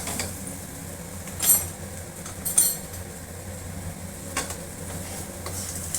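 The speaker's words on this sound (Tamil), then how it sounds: "எண்ணெயில் இப்படி ஒரு கிளறி விடுறோம்" Capsicum being stirred in hot oil in a pan, a low sizzle under a few sharp scrapes and clinks of the spoon against the metal, close and intermittent.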